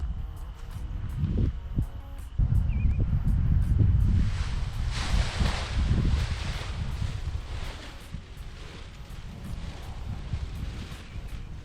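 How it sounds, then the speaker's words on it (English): Strong, gusty pre-hurricane wind buffets the microphone while kiting with a 14-meter Ozone Roadrunner wing, a continuous loud rushing roar that swells and eases in switchy bursts with no voices. "we had some pretty high winds from it"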